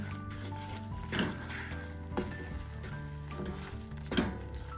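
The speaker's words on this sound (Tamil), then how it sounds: "இப்போ தேங்காய் பூவையும் இதுக்குள்ளே போட்டுட்டு நல்லா ஒருக்கா இதை கிண்டி விடுவோம்" Semolina and grated coconut being stirred together in a pan for semolina toffee, giving a soft steady sizzle with several louder scraping strokes at intervals, close and moderately quiet, with no talking.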